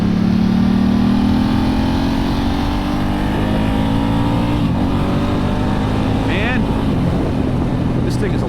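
A 2008 Ducati S2R1000 Monster's engine roars loudly while being ridden through country corners, pitch rising and falling with throttle changes amid heavy wind rush, with a rider's voice briefly audible.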